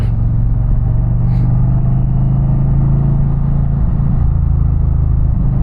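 Indian Challenger motorcycle exhaust while riding on back roads in Pennsylvania, a loud continuous low rumble with steady engine drone and wind, no talking.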